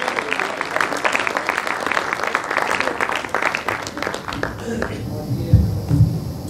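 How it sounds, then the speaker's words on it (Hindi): A stage audience at the Gandhi festival in Ajmer claps steadily for several seconds in a dense burst of applause. It then fades into room hum with a few low thumps. "अतिरिक्त तालियों के साथ भविष्य के एक शानदार उम्मीद को बुलाएं जिसका नाम है गौरव जी।"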